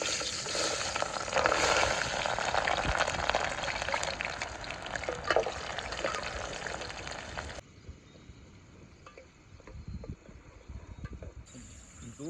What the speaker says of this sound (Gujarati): મરચાં તળવાના છે